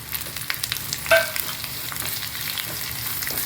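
Chopped onion sautéing in a pan, a close crackling sizzle with several spatula scrapes and one sharp metallic clink early on.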